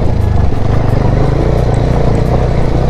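A motorcycle rides off-road over rocky ground near Jasuri Waterfall in Karbi Anglong, its engine a loud, close, continuous rumble with rattling clatter throughout.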